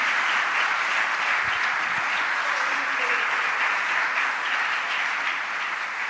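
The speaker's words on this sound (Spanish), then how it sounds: "Le da un aplauso fuerte al Padre Celestial." A church congregation applauds steadily for several seconds at a moderate distance, with a dense, even wash of clapping and no talk.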